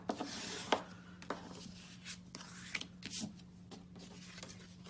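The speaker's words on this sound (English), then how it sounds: "I've already scored the card, so I'm just going to burnish, fold and burnish." A bone folder burnishes and folds scored card stock close by, making faint, soft rubbing strokes broken by a few small crisp scrapes and taps over a quiet background hum.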